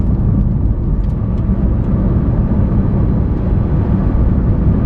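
Lamborghini Huracan or Aventador engine roaring in a constant broadband rumble as the car drives in automatic mode, steady and loud road and engine noise with no pauses.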